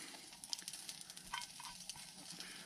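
Food sizzles on a hot plate at a field campsite during caravan renovation work, a faint steady crackle with small pops, close and continuous with no talking.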